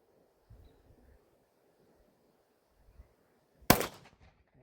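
A single sharp shot from a Tisas 10mm pistol fired at a target using reloaded ammunition, one loud close crack in otherwise quiet surroundings with faint low thumps before it.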